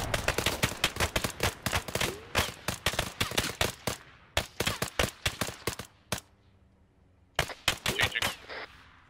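Rifle fire in ArmA 3 rings out in rapid, loud, close bursts of sharp cracks, with a brief lull before a final cluster of shots.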